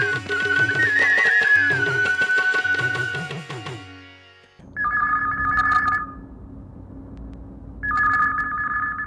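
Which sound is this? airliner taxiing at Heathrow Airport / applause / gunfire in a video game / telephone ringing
telephone ringing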